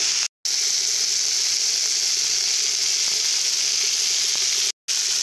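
Salted bitter gourd sizzles loudly and evenly in a frying pan, close and continuous, cut by two very short drops to silence.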